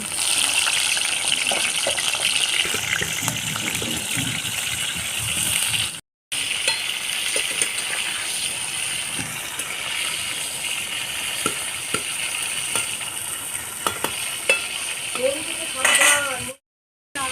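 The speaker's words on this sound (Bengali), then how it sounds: "লবণ হলুদ মাখানো পটলগুলো একসঙ্গে ভেজে নেব" Pointed gourd (potol) coated in salt and turmeric fries in hot oil with black cumin, giving a steady, close sizzle that runs throughout with a couple of brief dropouts and occasional utensil clinks.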